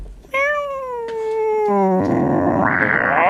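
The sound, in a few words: person imitating a dog howling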